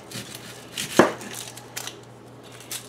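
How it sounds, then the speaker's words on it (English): A knife chops through an onion on a cutting board with one sharp, close, loud stroke, surrounded by a few fainter cuts and a steady low hum. "show you just to get this onion chopped"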